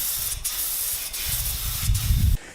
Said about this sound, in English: spraying it up